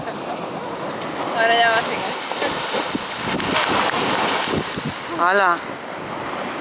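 Ocean surf rolling in at Castro de Barona beach in northern Spain, the cold water breaking as a steady wash mixed with wind buffeting the microphone, while people talk and call out briefly in between.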